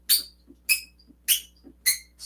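A Line 6 Helix expression pedal squeaks as it is rocked back and forth. Four sharp, high squeaks come at an even rhythm, each followed by a softer creak on the return stroke. They are close and clear, with no talking.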